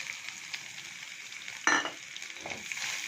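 Curry leaves, green chillies and grated coconut frying in a pan give a steady soft sizzle, with one sharper burst of crackling near the middle as something is stirred or added.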